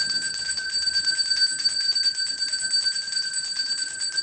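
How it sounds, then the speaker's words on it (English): A hand bell rung to cleanse energy in a room, its bright metallic tone shaken continuously and rapidly, loud and close for over four seconds without pause. "I gotta ring that bell. I gotta cleanse the energy."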